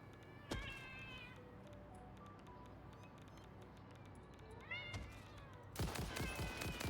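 A radioactive cat creature in the video game Satisfactory meows in short, bright calls, one near the start and a louder pair toward the end, over a steady low in-game machinery hum.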